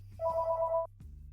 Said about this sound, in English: I hear a phone call.